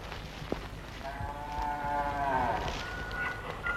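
Cow lowing in a long, drawn-out moo that rises and falls for a couple of seconds, moderately near, over faint background rustle and a few soft knocks.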